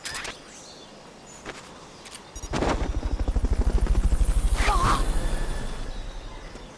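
A helicopter in the Metal Gear Solid Peace Walker video game starts up after a quiet stretch and builds into a steady, loud rotor chop. It holds strong for several seconds, then slowly fades, with a brief chirp partway through.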